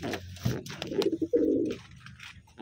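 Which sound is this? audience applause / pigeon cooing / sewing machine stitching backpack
pigeon cooing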